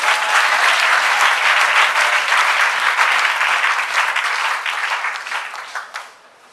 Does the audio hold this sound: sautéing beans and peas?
no